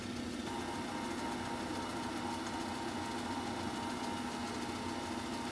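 Polishing machine spinning at 1800 RPM while testing a new polishing paste, a steady unbroken motor whine and hum holding an even level throughout with no pauses.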